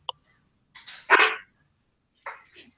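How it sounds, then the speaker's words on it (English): A dog barks in a few sharp bursts, one short yip followed by two louder barks close together and a softer pair after a pause, against an otherwise quiet room. "There's a dog barking"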